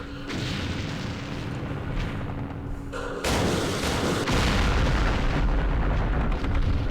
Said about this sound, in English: The mortars did their job on the machine guns.